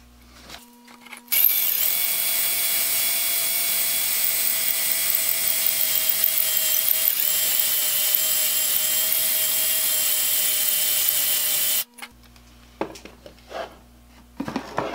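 An electric drill whines steadily at high pitch for about ten seconds while drilling through china for a tidbit tray, starting and stopping abruptly, loud and close with no talking.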